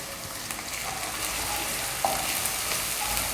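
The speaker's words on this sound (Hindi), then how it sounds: "इसको अच्छे से कर लेंगे फ्राई।" Finely chopped onion with ginger-garlic paste sizzles steadily in hot oil in a pan, a close continuous frying hiss with a few light stirring clicks, no voices.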